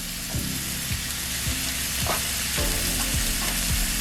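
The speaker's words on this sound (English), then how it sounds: "So you want it just to saute for a little while." Vegetables sauté in a pan for a vegan veggie wrap, a steady close sizzle with occasional stirring scrapes and clicks of a utensil against the pan.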